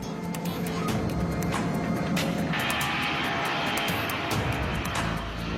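A Japan Airlines airliner climbs toward cruise altitude, its engines a loud, steady broadband roar throughout, with a higher whine joining partway through.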